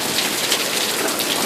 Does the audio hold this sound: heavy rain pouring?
yes